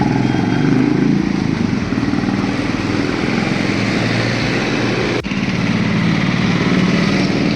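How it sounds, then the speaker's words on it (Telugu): A Royal Enfield Classic 350 motorcycle engine running steadily on a trial ride after a brake pad change, a loud continuous low thrum with a brief dip midway, no talking. "మెకానిక్ అయితే బైక్ని ఒకసారి ట్రయల్ వేయడానికి వెళ్ళాడు"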